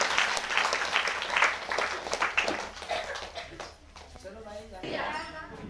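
Audience applause at a religious gathering, scattered uneven clapping with speech and a dog barking in the mix.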